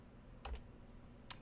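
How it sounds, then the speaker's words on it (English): Two or three quick, faint key clicks on a computer keyboard in a quiet room, with a sharper single tap near the end. "I hit S on my keyboard to split the clip."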